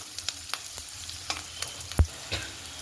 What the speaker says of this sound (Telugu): కరివేపాకు వేసి బాగా ఫ్రై చేసుకోవాలి బాగా కొంచెం సేపు ఫ్రై చేసుకోవాలి